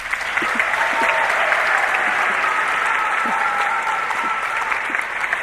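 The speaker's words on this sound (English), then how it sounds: "Please give him a round of applause as well." Audience applause for a choir soloist at a county all-county choral concert: a dense, steady wash of many hands clapping, loud and sustained throughout without a break.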